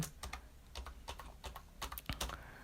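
A computer keyboard is typed on in quick, uneven bursts of close, crisp key clicks as a default password is entered while setting up a Raspberry Pi, with no voices.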